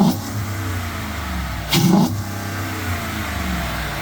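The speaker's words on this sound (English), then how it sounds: "My daughter, Dream Smasher, is going to rev it up." A Ford F150 pickup fitted with a Roush cold air intake idles steadily, then gives one short, sharp rev around the middle before settling back to a low idle, heard close up with no talking.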